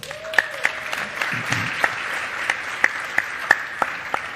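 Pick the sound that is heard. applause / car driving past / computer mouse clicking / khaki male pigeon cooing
applause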